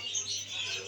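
Pet lovebirds chirp faintly in a brief burst of high, thin tweets.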